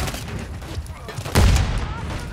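A Semtex grenade explodes amid gunfire in a multiplayer shooter, a sudden heavy boom cutting through continuous loud firefight noise and shouting voices.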